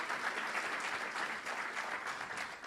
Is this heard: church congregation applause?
yes